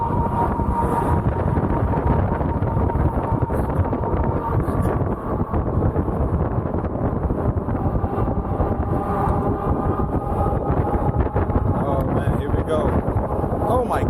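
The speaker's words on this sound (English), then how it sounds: "And now I go to film, and it's like all kinds of crazy wind." Strong gusting wind roars against the microphone during an evening ride on an Ariel Rider Kepler V2 electric bike, a loud, steady rumbling buffet that continues throughout and drowns out other sound.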